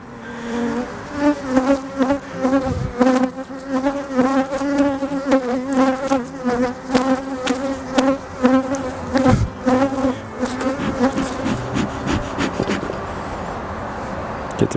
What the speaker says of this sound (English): bee away from the mic, that's all you'll hear is a bee.